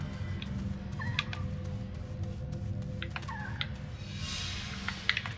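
A cat meows faintly a few times, short wavering calls spaced apart over a steady low hum of background noise, with no talk over them.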